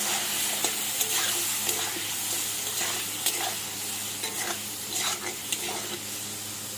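Mango pieces with turmeric and salt are stir-fried in a pan, a moderate sizzle punctuated by repeated rhythmic spatula scrapes and knocks against the pan.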